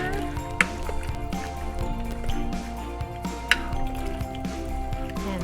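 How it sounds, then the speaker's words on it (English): Soup being stirred in a pot, with liquid sloshing and a few sharp clinks of the spoon against the side, close and fairly loud, over a steady low background. "Give that a good stir."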